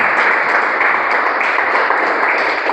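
A church congregation applauds loudly and steadily for a few seconds, a dense, continuous wash of clapping with no other sounds standing out.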